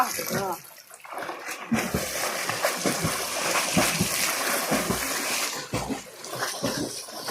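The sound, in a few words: people jumping into a village well, water splashing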